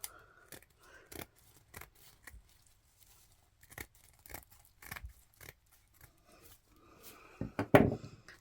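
Scissors snip through material while crafting unicorn cupcake heels, a string of light, crisp close cuts spread across the clip, ending in a louder, longer slicing cut.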